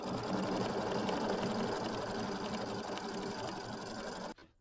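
Domestic sewing machine stitching a pebble pattern of little circles on a small Kimberbell mini quilt, its steady rapid needle hum running continuously close up and stopping abruptly just before the end.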